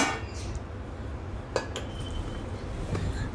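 A spoon stirs powdered sugar, vanilla essence and boiled milk together in a bowl for a tiramisu, giving soft scraping with a couple of light clinks against the bowl over quiet background noise.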